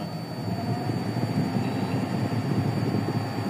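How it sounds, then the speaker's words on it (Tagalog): A Toyota 4A-FE car engine idles too high, droning continuously at close range, a low rumbling hum with no voices over it. "Yung idle, yung tunog ng makina."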